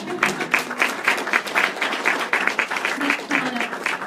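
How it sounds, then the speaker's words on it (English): Audience applause, a steady patter of many hands clapping throughout, with some voices mixed in. "go ahead and clap"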